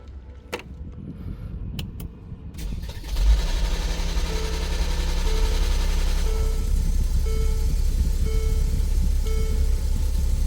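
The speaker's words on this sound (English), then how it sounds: "we had this crazy noise as you heard it, but the engine started" A few clicks, then a Mercedes engine with camshaft and crankshaft correlation faults cranks and catches into a loud idle, with a repeating rhythmic chirping noise pulsing over the running engine.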